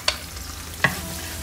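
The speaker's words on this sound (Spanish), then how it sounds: "aquí seguimos con nuestro arrocito sofriendo mientras las chuletas van friéndose también" Rice and pork chops frying together in a pan, a quiet sizzle broken by two brief scraping stir strokes, close and without talk.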